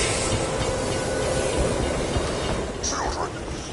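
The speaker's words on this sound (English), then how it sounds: "we gotta keep this train on schedule" A moving train in the video game Borderlands 2: a steady, rumbling roll with a faint hiss carries on under voices talking, ending with a brief higher squeal.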